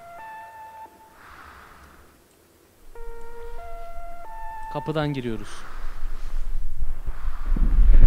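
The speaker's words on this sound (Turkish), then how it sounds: "Bir yerde telefon meşgul çalıyor bak" Inside a horror video game, a phone's busy signal repeats in steady electronic beeps, a series of tones at a moderate level beneath a man's speech and the game's ambient sound.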